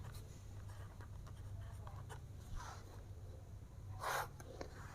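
Pen writing numbers on paper during a Class 5 math exercise, faint scratchy strokes recurring over a steady low hum, with a brief louder scribble near the end; no talking.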